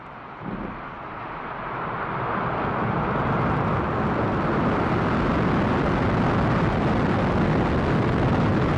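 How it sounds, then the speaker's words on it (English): SpaceX Falcon 9 Block 5 rocket engines igniting at liftoff of the Crew Dragon Demonstration Mission 1 to the ISS, a deep broadband roar that swells steadily and holds loud and continuous. "Ignition, liftoff."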